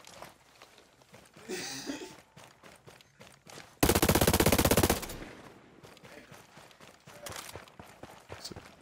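Automatic gunfire in the Ghost Recon Breakpoint video game during PvP, heard as a loud, dense burst of rapid shots lasting about a second, set among quieter footsteps and game ambience.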